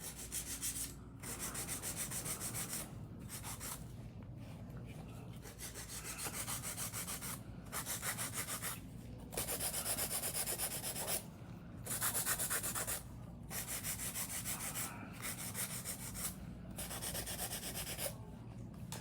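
Hand filing smooths the sides of acrylic nails in a series of close, short rasping strokes separated by brief pauses, steady and even throughout.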